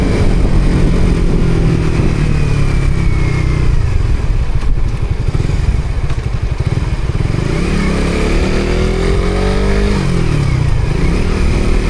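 Slasher, a personal motorcycle, revs its engine loud and close in a continuous drone, the pitch swelling and dipping through repeated throttle blips with no talking.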